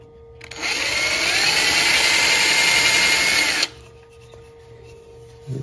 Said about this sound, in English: I drill a little hole about half the depth of the bead